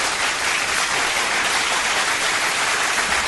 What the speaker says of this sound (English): That's what I would call tepid applause